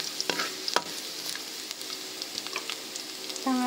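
Garlic frying in hot oil in a pan for saluyot leaf paksiw, a soft steady sizzle with a few sharp clicks of a utensil and light stirring, fairly quiet and close.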